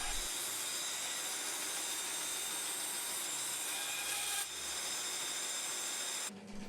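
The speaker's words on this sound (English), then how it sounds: "It was reasonably rough off the bandsaw, so I used the spindle sanders to clean it up" Spindle sander smoothing the rough bandsawn edge of an 18mm MDF piece, a steady loud grinding hiss running throughout before cutting off near the end.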